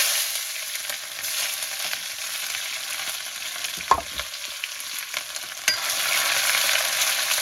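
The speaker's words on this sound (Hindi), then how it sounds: "अब डालेंगे प्याज।" Onions fry in mustard oil over a wood-fired chulha, a continuous close sizzle broken by scraping stir strokes and a few sharp knocks of the spoon against the pan, with no voices.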